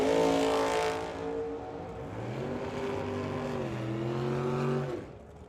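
A 1963 Nova and a 1964 Corvette launching side by side at a drag strip, a loud sustained engine roar rising in pitch as they pull away, then fading with distance.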